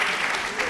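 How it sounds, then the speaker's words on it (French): An audience on a French television magic show claps, a short burst of dense, steady applause. "On applaudit."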